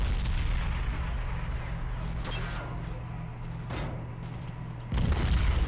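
Tank cannon fire in the World War II strategy game Men of War Assault Squad, a few heavy booms and cracks over a constant low battle rumble, with one louder blast near the end.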